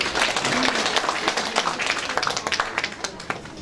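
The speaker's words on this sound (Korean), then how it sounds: "군수님 나오실 때 큰 박수 부탁드립니다" Audience at a New Year town hall meeting in Yangpyeong-eup applauds as the county head comes forward, dense clapping that thins into scattered individual claps near the end, with faint voices underneath.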